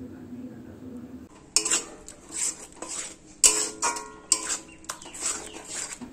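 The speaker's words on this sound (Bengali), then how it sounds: "দিয়ে আবারও সব উপকরণগুলো একসঙ্গে ভালো করে কষিয়ে নিচ্ছি।" Tomato paste and spices being sautéed together in a pan for a pomfret and potato curry, with metallic clinks and scrapes of a spoon against the pan over a soft sizzle.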